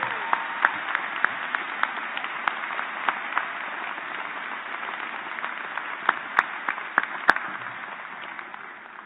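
A college convocation audience applauds the staff and volunteers, giving steady, moderately loud clapping that continues throughout. Several sharp, distinct claps stand out near the microphone before the applause thins slightly at the end.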